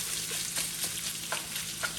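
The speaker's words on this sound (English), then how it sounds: "Gonna bring the heat back up, and we will fry this." Pork and shrimp fried rice stir-fried in a hot wok, a steady loud sizzle with scattered scraping and tossing clicks from the stirring, close and continuous.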